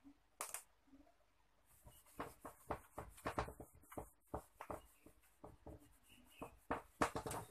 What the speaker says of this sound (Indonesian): Saya hapus dulu ya.